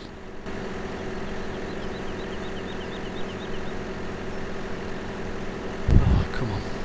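Steady tractor engine drone in Farming Simulator 2017 during farm work, a continuous low hum at moderate level with a brief louder thump near the end.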